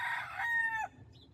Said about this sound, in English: There's a chicken in the car rental parking lot.